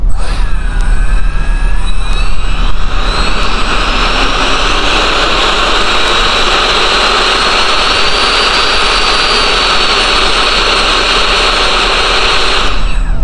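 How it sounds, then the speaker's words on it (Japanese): Motors of a radio-controlled flying car running at full throttle in drone mode: a loud, close, steady high-pitched whine and roar that rises at the start and holds for over ten seconds. "今、フルスロットルまで行ったんですけど、浮かないね。"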